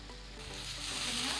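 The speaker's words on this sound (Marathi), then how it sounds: "भाज्या छान परतून घ्यायच्यात" Mixed vegetables with carrots and jujube peels sautéing in a pan for a Bhogichi bhaji, giving a steady close sizzle that grows slightly louder, with no talk.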